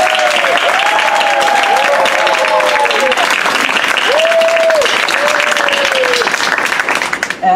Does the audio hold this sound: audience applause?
yes